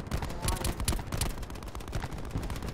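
Gunfire in Call of Duty Blackout, rapid bursts of automatic shots crackling in quick succession at moderate distance, with players talking over the action.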